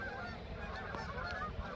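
Geese honking by the water at a boat ramp at night, a steady chorus of overlapping calls over a constant background wash, fairly loud and continuous with no talking.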